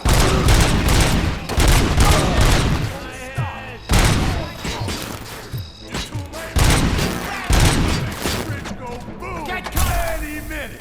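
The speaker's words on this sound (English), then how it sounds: "Am I hearing gunshots?" Rapid bursts of gunfire and heavy booms crackle loudly in repeated volleys in the video game RoboCop: Rogue City, with intermittent voices and synthetic game effects between them.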